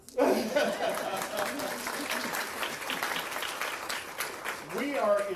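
Audience applause at a school ribbon-cutting ceremony for an early childhood center, a steady, dense burst of clapping sustained throughout, with voices briefly audible at the start and end.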